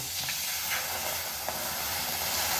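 Water heating in a wok comes to a boil for mung dal, giving a steady, soft hiss and faint bubbling that holds evenly throughout.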